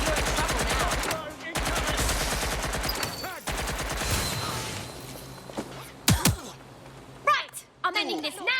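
Bursts of automatic gunfire from a Watch Dogs Legion firefight, loud and rapid, running for several seconds with a few short breaks, followed by scattered thuds and single impacts while a voice talks over parts of it.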